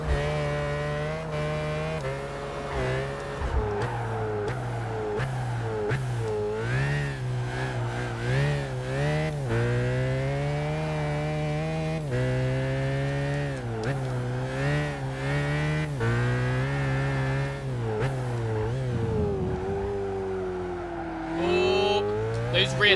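A car accelerating hard in the Gran Turismo 5 racing game with extra horsepower, its engine whining loudly and climbing through repeated gear changes, a continuous close roar with rising and dropping pitch.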